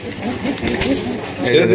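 A male pigeon coos softly in low, rolling murmurs, close by, over a brief stretch of room noise.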